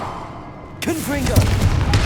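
A Confringo fire spell blast in Hogwarts Legacy bursts in sharply with crackling, booming impact noise, followed by a sustained rumble and rattling debris, with a voice briefly present underneath.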